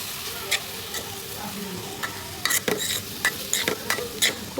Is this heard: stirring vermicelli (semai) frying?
yes